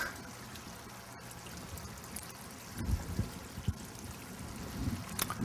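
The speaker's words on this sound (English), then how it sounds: "You see this stuff's just bubbling and roiling up through there." Fermenting mash bubbles and churns in an open distillery fermenter, a soft, steady gurgling texture with small irregular pops that grow busier and louder in the second half, heard close with no talking.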